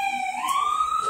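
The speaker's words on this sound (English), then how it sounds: "Okay, there's a siren." A siren wails outside, a single rising tone sweeping upward and holding steady, fairly loud and clear with no talk over it.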